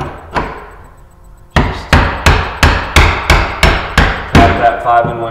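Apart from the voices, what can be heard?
hammer tapping a 5-in-1 tool behind moulding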